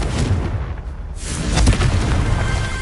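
A Confringo fire spell bursts in Hogwarts Legacy, a dense, booming blast with a low rumbling tail that swells again midway through, loud and continuous with no talking.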